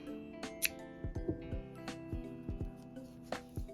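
Scissors snip excess yarn off a small crocheted Snoopy keychain, giving a series of sharp, close clicks and snips spaced irregularly over a few seconds with no talking.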